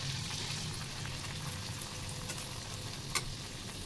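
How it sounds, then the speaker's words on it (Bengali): Batara fried bread frying in a pan gives a soft, continuous sizzle and crackle with a few small pops, low in level and without voices. "বাটারাগুলো ভাজা চলছে"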